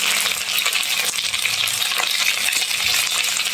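Pork and taro stew in tomato sauce sizzles steadily in a pot while being stirred, a continuous close frying hiss with faint scraping and no talking.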